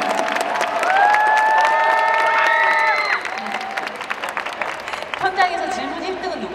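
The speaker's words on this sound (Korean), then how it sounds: "박수 한번 좀 보내드릴까요?" Audience applause and cheers at an open talk for the film 'Broker' at the Busan International Film Festival, a dense sustained wash of clapping with rising voices, thinning after about three seconds as speech resumes.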